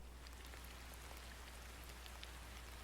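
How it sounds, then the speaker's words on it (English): Steady rain in a video game, a dense even hiss of falling drops with faint scattered droplet ticks, continuous and alone without any voices. "now we're going to show you guys the rain effects, the new rain effects that are happening in the game."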